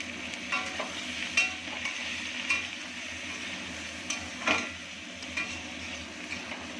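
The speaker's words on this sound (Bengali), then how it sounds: "তো পটলটা অনেকটাই প্রায় ভাজা ভাজা হয়ে গেছে, পটল আমার ভাজা হয়ে গেছে।" Pointed gourd (potol) frying in a pan for potol posto, a soft continuous sizzle with periodic scraping and tapping as a spatula stirs the pieces, fairly quiet and close.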